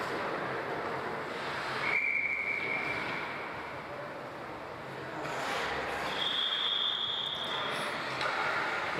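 Referee's whistle at a high school varsity ice hockey game, two short shrill blasts heard some distance off over a steady arena rumble and crowd noise.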